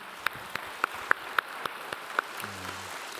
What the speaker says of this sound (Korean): 우리 축복과 격려의 박수 하도록 하겠습니다